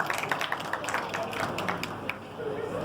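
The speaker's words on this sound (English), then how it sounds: "clapping for sir, please" A small audience at a public speaking session claps in brief, scattered bursts, with a quick run of individual claps that thins out toward the end.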